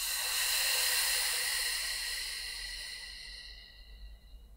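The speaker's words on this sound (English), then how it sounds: "Breathe out and release." A long, slow breathy exhalation during pranayama practice, a steady close airy hiss that gradually softens and trails off over several seconds, with no talking.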